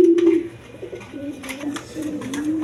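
A pair of Rajgolla pigeons coo up close, a few low throaty coos rising and fading over a couple of seconds in a quiet loft.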